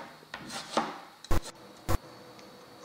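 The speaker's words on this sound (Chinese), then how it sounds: "准备西红柿切成片" A knife slicing a fully ripe tomato on a cutting board: soft scraping cuts followed by two sharp, distinct knocks of the blade meeting the board, close and quiet otherwise.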